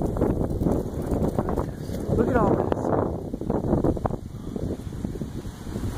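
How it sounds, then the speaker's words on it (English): Strong storm wind buffets the microphone outdoors beneath threatening clouds, a loud, gusty roar that swells and dips throughout while a person speaks over it. "really windy all of a sudden too"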